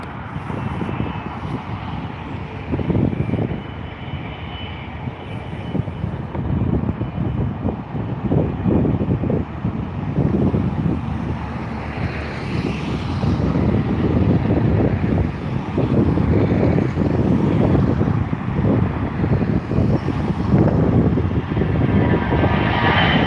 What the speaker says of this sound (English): EIEDP has just begun its takeoff roll just there